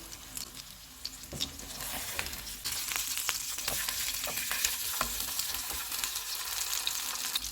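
Salmon fillet frying in a pan after being flipped, a steady close sizzle crackling throughout with scattered sharper pops and spits, growing slightly louder partway through, no voices.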